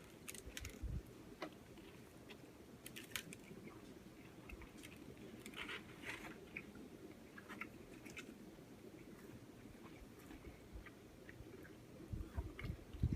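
Someone chews a sirloin burger with bacon, cheddar, lots of pickle and a stale bun, outdoors on a cold night; soft, close, irregular munching and biting alone, with a few sharper crunchy bites and no talk.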